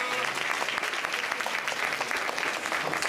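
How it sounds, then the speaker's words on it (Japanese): Audience applause at the Turtle Talk show in Tokyo DisneySea, a dense, steady clapping from a theater crowd that holds at an even level for about three seconds. "みんな彼に拍手しようぜ。"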